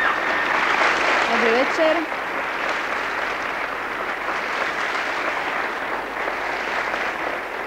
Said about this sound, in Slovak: Dosť bolo potleskov